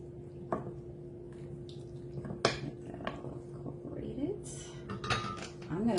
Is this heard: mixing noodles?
yes